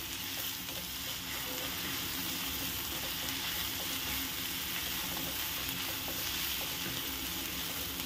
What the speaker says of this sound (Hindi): आता आपण याला एकत्र मिक्स करूया। 2 मिनिटं परतून घेऊ।